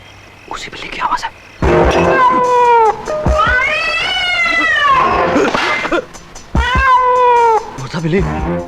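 A cat caterwauls in several long, wailing meows that rise and fall, loud and close, in a scene from the 2024 Hindi-dubbed horror film Munjya, with brief voices or noises between the cries.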